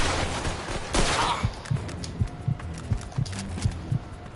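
Revolver gunfire in the video game Mafia 2 Definitive Edition: a run of sharp, evenly spaced shots at moderate loudness, about eight reports over a few seconds, with a dense background of game noise.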